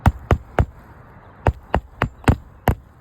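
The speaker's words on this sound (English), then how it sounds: "I'll lift it up a tiny bit so I don't hit it with the hammer" Hammer driving nails into roof shingles, eight sharp close blows in two uneven bursts with short pauses between, no talking.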